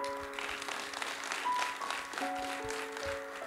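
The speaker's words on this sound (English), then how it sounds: "Can we have a loud round of applause today?" An audience at a women's conclave applauds, a soft, diffuse wash heard from a distance, with sustained tones, likely music, running through it.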